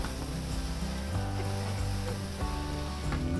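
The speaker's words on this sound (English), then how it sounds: "So I've been softening the leeks and onions for about 5 to 6 minutes, stirring continually to help prevent it from burning." Leeks and onions soften in a pan, giving a steady, close sizzle that runs continuously throughout without pause or talk.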